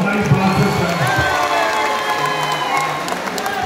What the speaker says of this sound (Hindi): जोरदार तालियों से बताइए कि आप हमारी बात से सहमत हैं।